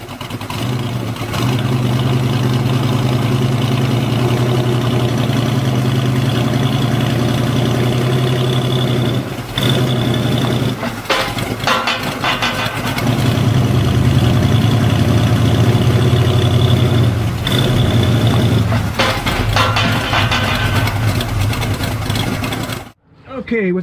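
A 1965 Ford Falcon engine idles steadily and loudly close by with a constant low hum, briefly rising around the middle, then cuts off abruptly near the end.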